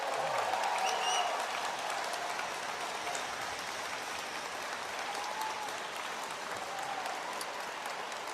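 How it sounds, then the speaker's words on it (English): Applause from a crowd of political supporters at an indoor rally, steady clapping that continues throughout, slightly louder at the start, with faint voices mixed in. "how about kicking it off with a huge, warm round of applause"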